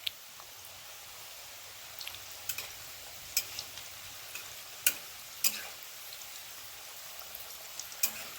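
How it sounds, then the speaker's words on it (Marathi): Colocasia rolls (alu vadi) frying in oil make a faint, steady sizzle with scattered sharp pops and crackles. "आता हे उकळलेले असल्यामुळं ह्याला जास्त भाजायची नाही, जास्त काळी करून होऊन द्यायची नाही."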